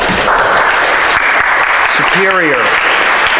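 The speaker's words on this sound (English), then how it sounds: "how about a round of applause for" Symposium audience bursts into loud, sustained applause after a panel, clapping filling the room while a voice briefly speaks over it midway.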